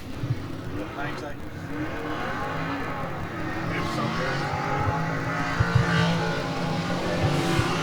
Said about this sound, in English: Oh, don't those engines sound nice,